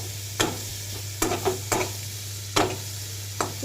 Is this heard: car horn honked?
no